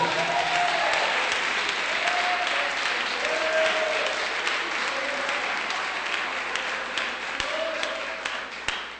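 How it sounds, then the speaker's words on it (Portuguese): A church congregation claps steadily and fully for Jesus during a sermon, a dense applause lasting the whole stretch with a few brief voices rising over it. "Pode dar uma salva de palmas para Jesus."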